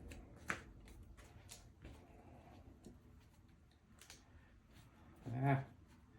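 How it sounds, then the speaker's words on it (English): A Magic: The Gathering card deck being shuffled, a quick flurry of riffling card clicks near the end after a few faint ticks, close and fairly quiet. "Shuffle in there quick."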